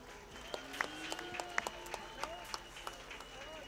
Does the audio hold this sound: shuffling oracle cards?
no